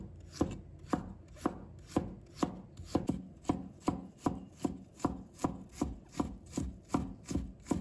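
A knife mincing fresh ginger on a cutting board, with steady rhythmic chops repeating about twice per second, close and clear with no voices.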